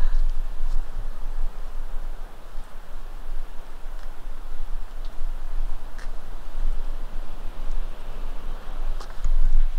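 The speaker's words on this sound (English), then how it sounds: "I can hear the waterfall." A steady, broad rushing roar of a waterfall near a Queensland waterhole, constant and fairly distant, with occasional faint clicks on top.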